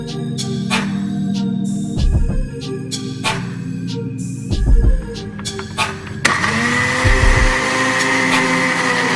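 An ordinary store-bought blender whirs through fruit and water for juice, starting and stopping in several short bursts before running steadily at a loud, high-pitched buzz near the microphone.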